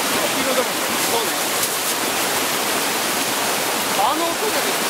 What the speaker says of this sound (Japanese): 結構さ、川の音のボリュームって大きいよね。